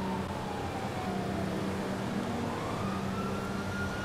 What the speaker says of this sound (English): And if you're hearing sirens,